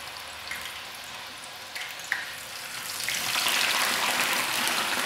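Potato fries sizzle in a pan with green olives, a steady hiss of frying oil that swells louder partway through, with a few small pops and clicks, close and with no talking.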